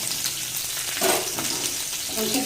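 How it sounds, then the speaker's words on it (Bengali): Garlic, green chilli and onion frying in a pan, a steady broadband sizzle running throughout with a brief stirring disturbance near the middle, close and moderately loud. "ভালো করে এটা একটু ভাজা ভাজা করে নিয়ে"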